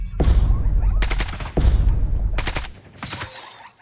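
Gunfire in the video game Jagged Alliance 3 rings out as several sharp bursts of rapid shots, close and loud, each trailing off briefly before the next volley.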